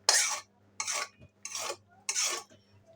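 A spatula stirs fried mini fish in a pan, making four distinct, evenly spaced scraping strokes, each about half a second, close and fairly loud with quiet gaps between.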